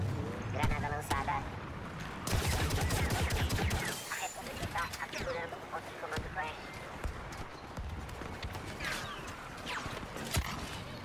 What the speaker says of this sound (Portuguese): Mano, quem tá atirando em mim, velho?